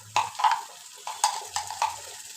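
Onions frying with ginger garlic paste in a pan, stirred in several distinct scraping bursts over a soft sizzle, close and moderately loud with brief pauses between strokes.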